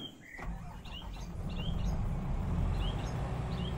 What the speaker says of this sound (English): just you can hear the birds chirping.